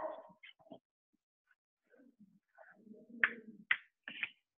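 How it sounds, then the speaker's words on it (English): A dog barks and yips from a little distance, giving a few sharp, short calls near the end after scattered faint whimpers and quiet stretches, and no voices talk over it. "that would be my dog being very loud"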